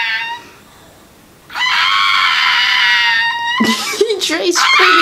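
A child screams after dropping food: a quiet moment, then a long, piercing high wail that keeps going and turns into broken, shrill cries.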